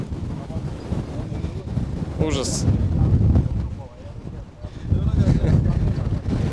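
Gusty wind batters the microphone on rocky high ground during wildfire-fighting work in bad weather, loud rumbling surges rising and easing, with someone talking over it.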